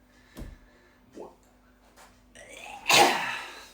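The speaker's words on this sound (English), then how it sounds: "why do you sneeze like that?" One person sneezes loudly up close after a few short sharp inhales, with a breathy tail as it fades.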